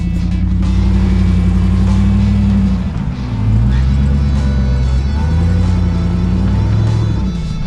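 A Jeep Gladiator with a swapped Demon engine rumbles along a sandy Moab trail, its deep engine drone loud and steady with a throttle dip and surge midway, while someone talks over it.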